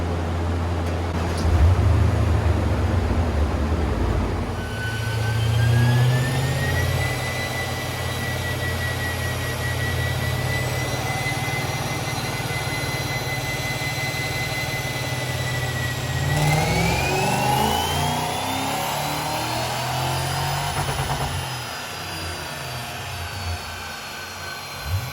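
A BMW E39 M5 engine revs hard on a dyno, a loud sustained roar climbing steadily in pitch through the gears with a rising whine, continuous and close throughout.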